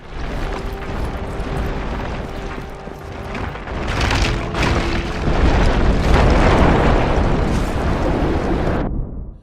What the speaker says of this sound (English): Many buildings and cars are your tools to create the biggest explosions